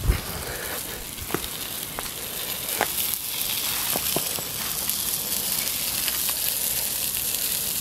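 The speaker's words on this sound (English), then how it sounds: "Sausages frying" Steady hiss and sizzle of sausages frying in a pan at an outdoor woodland camp, with scattered small pops and crackles throughout, close by and without speech.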